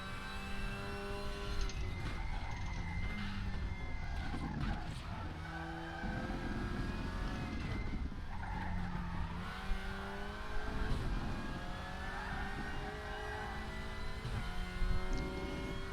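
A 2019 VW Golf WTCR touring race car in a sim racing game at Ningbo circuit, its engine revving hard through gear changes with repeated rises and drops in pitch, plus occasional tyre squeal, loud and continuous.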